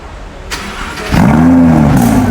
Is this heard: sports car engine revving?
yes